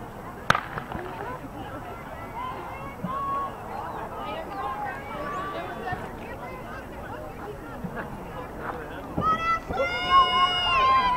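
A starting pistol fires once for a high school track race, a sharp close crack near the start, followed by crowd noise, shouting and cheering from spectators as runners go.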